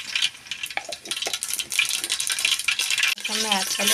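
Mustard seeds spluttering and popping in hot oil while cooking a fish dish, giving a steady crackling sizzle with scattered sharp pops, close and fairly loud, with a brief voice near the end.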